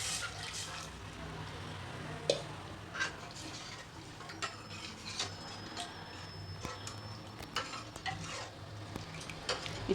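Boiled palak (spinach) stems frying in a spice tempering give a soft, faint sizzle broken by sharp ticks and scrapes of stirring in the pan, with brief quiet speech.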